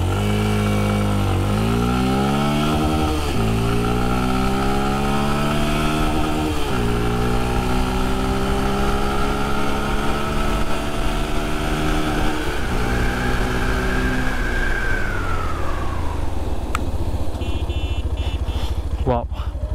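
Yamaha FZS V3 and FZ-X motorcycles accelerate hard in a speed test, engine pitch climbing through several gear shifts. The engine stays loud and close throughout, then eases off near the end.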